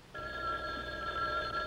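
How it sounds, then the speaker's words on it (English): A telephone bell rings in a 1979 film scene, a loud continuous metallic trill that starts abruptly and holds steady. "Phone. Where's the phone?"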